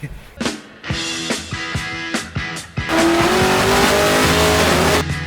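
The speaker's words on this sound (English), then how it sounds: "See, I told you this is going to be a nice Sunday drive for you, Marty." A VX SS Commodore drives hard, its engine revving up and dropping through several gear changes before settling into a loud, sustained roar close by, with brief tire noise and no talk.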